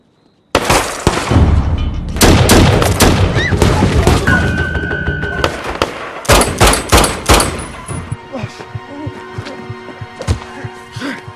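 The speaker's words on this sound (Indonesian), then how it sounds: "mereka pun dikejutkan saat Hammond dan rekannya terlibat baku tembak" Gunfire rings out in a movie shootout: a loud, dense volley of shots and heavy booms that thins into scattered cracks and fades toward the end.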